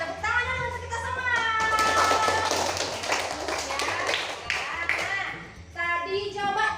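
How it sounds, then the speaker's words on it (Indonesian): A classroom of children clapping hands together in a quick patter of taps, mixed with kids' voices and excited chatter, fairly close and lively before the noise briefly eases and voices resume. "tepuk tangan dulu untuk kita semua"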